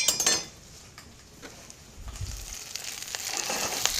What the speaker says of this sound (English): we're going to add our Swiss chard to gently soften in the pot with the shallots